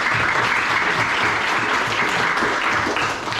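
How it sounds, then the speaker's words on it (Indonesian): A class of students applauding together, a steady dense clapping that fills the room loudly and evenly for a few seconds before easing slightly at the end. "Aplaus untuk kita semua."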